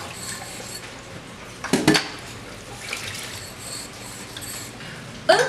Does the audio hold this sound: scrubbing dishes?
yes